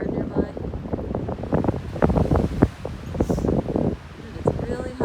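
Strong wind gusts buffet the microphone on the exposed Bald Rock summit along the Pinhoti Trail, a constant roaring rush with irregular thumps and crackles, loud and close.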